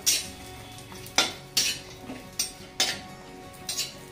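Cashews frying lightly in a pan with a little oil, a soft sizzle under repeated sharp scrapes and clinks of a spoon stirring against the metal, close and moderately loud.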